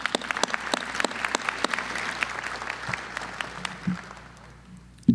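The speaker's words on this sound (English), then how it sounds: "Please give yourself a round of applause." Audience applause at a city fire department cadet graduation ceremony, with a crowd clapping steadily before it thins out and fades.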